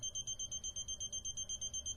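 A non-contact AC voltage detector pen beeping in a fast, even series of short high-pitched pulses, close but fairly quiet, with no voice.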